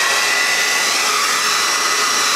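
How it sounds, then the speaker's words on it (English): A hair dryer blows steadily at close range, a loud, even rushing hiss with no pauses. "I just put the blow dryer on all that"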